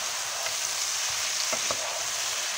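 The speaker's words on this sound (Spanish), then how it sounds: "Esto unos segundos porque como ya está molido, se sofríe enseguida." Minced garlic and parsley fry in olive oil with a loud, dense sizzle, broken by a few scraping stirs near the middle, and no talking over it.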